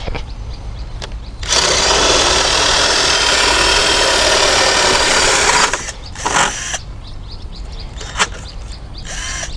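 A loud power drill whirs steadily for about four seconds, then cuts off, followed by a couple of short bursts and quieter handling noises, on a cucumber farm.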